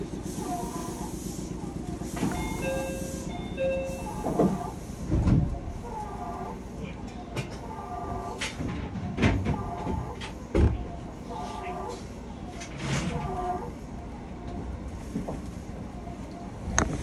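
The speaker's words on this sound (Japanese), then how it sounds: "ドアを閉めます。" Japanese train doors closing at a station stop, with hissing air releases and door thuds repeating amid a recorded announcement chime and onboard ambience.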